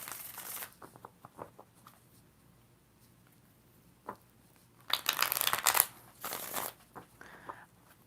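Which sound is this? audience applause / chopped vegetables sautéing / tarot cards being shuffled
tarot cards being shuffled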